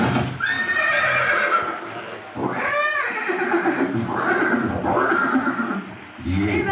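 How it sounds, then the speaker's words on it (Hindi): Horse neighing in a museum exhibit of the war horse Chetak at Haldighati: several loud, shrill whinnies rising and falling, with a short gap before a final burst. "ये दृश्य महाराणा प्रताप और सुविख्यात स्वामी भक्त घोड़े चेतक के अंतिम मिलन का है।"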